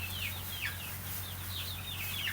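Chickens, including little chicks, give soft repeated clucks and chirps over a steady low hum, fairly faint and close, with no talking.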